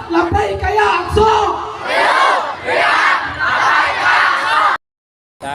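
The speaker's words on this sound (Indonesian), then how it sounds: "ini adalah kerumunan massa ya" Crowd of protesters at a pro-Palestine rally in front of Alun-Alun Garut, loud massed voices chanting and shouting in waves, sustained and close, ending in a brief silence.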